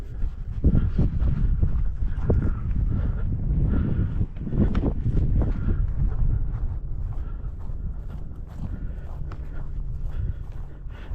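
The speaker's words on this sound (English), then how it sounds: "Oh, wind's coming." Wind gusting across an outdoor model airplane flying field, a steady low roar that buffets the microphone for the whole stretch, with a few soft thumps mixed in.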